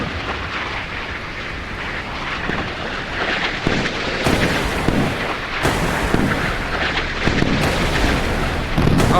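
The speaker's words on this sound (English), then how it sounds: "A British ship firing a French missile against an Australian vessel." In a naval battle simulation pitting Royal Navy against Royal Australian Navy ships, loud naval gunfire and missile launches roar continuously, with sharp blasts and rushing launch noise layered over a heavy rumble.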